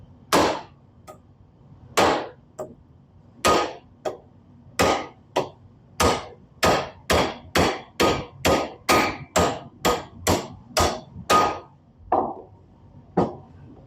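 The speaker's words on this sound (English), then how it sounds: "Then I'm going to take a hammer with the nut on there" Metal hammer blows strike a bolt and nut clamped in a bench vise on a Jeep part, about twenty sharp, ringing impacts in a steady, quickening rhythm, loud and close with brief silences between.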